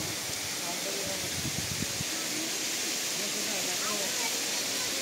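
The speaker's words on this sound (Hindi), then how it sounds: "ये देखिए दोस्तों कितने अच्छे झरने चल रहे हैं" Water streams pour down a green hillside near a dargah, a broad steady rushing hiss like a small waterfall, constant and fairly faint, with a voice speaking over it briefly near the start.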